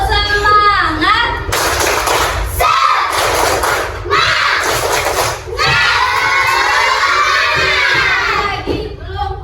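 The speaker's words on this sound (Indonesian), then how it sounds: "Kalau ibu bilang tepuk semangat, jawabannya semangat." Elementary schoolchildren in a classroom shout a class cheer in loud bursts of unison yelling with some clapping, while a teacher speaks between the bursts.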